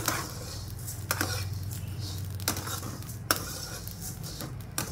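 Coriander seeds being dry-roasted and stirred in a pan, with steady scraping and light rattling against the metal, punctuated by a few sharper clinks of the utensil on the pan, close up and without talk.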